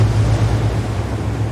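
Rough sea at night off Fécamp churns in a steady, loud low roar of waves and wind noise, continuous and close with no voices.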